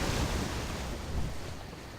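Water flows through a stream pond in Metroid: Other M, a broad steady rush with a low rumbling surge, loud and continuous, with no voices over it.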